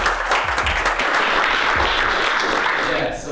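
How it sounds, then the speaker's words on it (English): Audience applause fills the room, steady clapping from many hands that holds for a few seconds before tapering off, with a voice faintly underneath. "Let's give them a round of applause"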